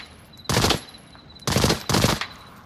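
Three loud, close bursts of rapid fire from a SIG MCX Virtus rifle at an outdoor shooting range, each lasting a fraction of a second, separated by brief quiet gaps.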